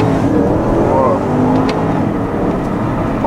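A 2011 Porsche Panamera Turbo accelerates hard in first gear, its engine a steady, loud, smooth roar that climbs in pitch with a window open, heard close from inside the car.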